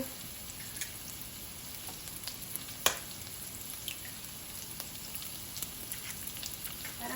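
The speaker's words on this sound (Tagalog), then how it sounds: "magluto tayo ng itlog" Eggs fry in a pan with a faint, steady sizzle and scattered small pops and crackles, one sharper snap in the middle, quiet and continuous with no voices.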